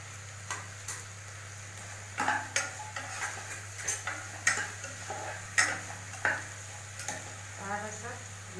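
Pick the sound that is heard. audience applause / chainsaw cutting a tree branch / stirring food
stirring food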